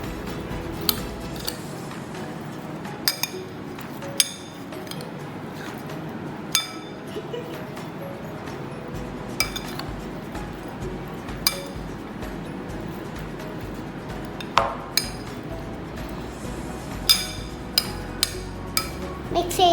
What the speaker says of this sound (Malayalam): ഇത് മിക്സ് ചെയ്യാൻ പോവാം.